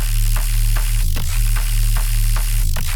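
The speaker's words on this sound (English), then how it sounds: "It turns this crunchiness into white noise, which kinda is exactly what adds the smoothness." Harsh, crunchy synth sound run through a high-end distortion effect that turns it into dense white-noise hiss, a steady loud buzzing texture with a low hum and brief rhythmic bursts.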